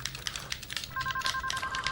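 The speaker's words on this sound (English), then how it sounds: "What is that ringing?" A telephone rings in a courtroom, a high electronic two-tone trill that starts partway through amid faint clicking and tapping, fairly quiet, with no talking over it.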